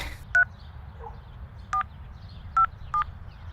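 Four short telephone keypad tones beep at uneven intervals over a low steady hum, each beep brief and clear.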